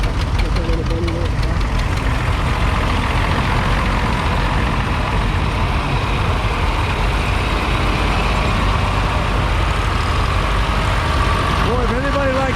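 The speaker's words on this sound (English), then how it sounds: "There's a Johnny Popper." John Deere 'Johnny Popper' tractor running in a tractor parade, a loud, steady engine rumble with a rhythmic knocking beat, close by, with brief voices near the start and end.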